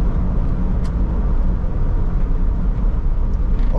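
A 2008 Toyota Rush 1.5 S with automatic transmission drives along, its engine and road noise forming a loud, steady low rumble with no voices heard.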